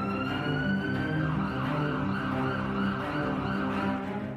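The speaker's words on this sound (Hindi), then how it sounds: "शहर में सायरन का शोर रह रहकर सुनाई दे रहा है।" Air raid sirens wail continuously across Taipei city during a civil defense drill, a loud sustained tone with slowly gliding pitch that fills the whole stretch without pause.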